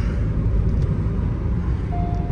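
A car cruises along a highway on a long drive, with a steady, close, low road rumble and wind noise throughout and no talking.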